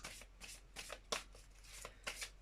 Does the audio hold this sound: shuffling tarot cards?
yes